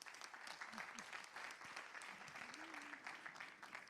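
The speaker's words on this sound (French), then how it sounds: "Vous pouvez applaudir." An audience at a French proptech conference on innovative, resilient and sustainable commercial real estate applauds steadily, a dense sustained clapping with a faint voice briefly audible underneath.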